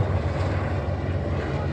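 An MH-60R naval helicopter flies past during an Indian Navy Day 2023 rehearsal at Malvan, Sindhudurg, putting out a loud, steady rotor and engine roar with a low pulsing throb that holds constant throughout.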